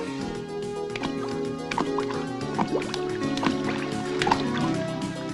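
A cartoon waterfall from a 1990 animated series: steady watery gurgling and dripping runs throughout, blended with a musical score, with no talking.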